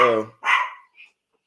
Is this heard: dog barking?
yes